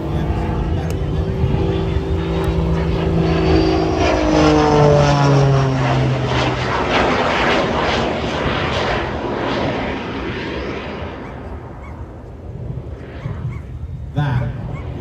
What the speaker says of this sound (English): A normal pit special would not be climbing that fast.